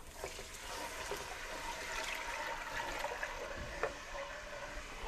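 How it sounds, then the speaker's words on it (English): Broth poured into a soup pot holding onions and toasted peanut butter, a steady liquid trickle and splash running throughout at moderate volume, with no talking. "Now we're going to add our broth."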